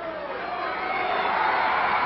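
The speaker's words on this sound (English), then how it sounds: "listen to the crowd. We want Billy, they shout. Now they're cheering" A wrestling arena crowd at a Billy Jack Haynes versus Kendo Nagasaki bout roars and cheers, a steady, distant mass of voices that swells slightly louder over two seconds.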